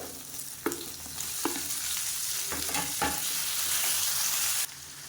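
Onions and tomatoes sauté in a pan for egg curry, a steady broadband sizzle with several sharp scraping stirs of a spatula, close and fairly loud, no voices.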